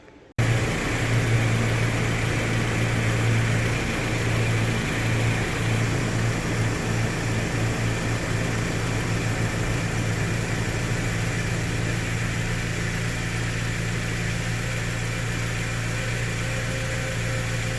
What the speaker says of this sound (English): let's start the vehicle now